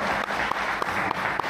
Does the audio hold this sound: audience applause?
yes